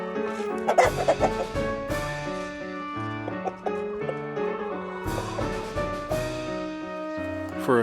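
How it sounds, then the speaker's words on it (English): Chickens cluck inside a farm chicken house: repeated close, loud clucks and squawks in uneven bursts, with no talking. "we come into the chicken house and just hang out with the chickens."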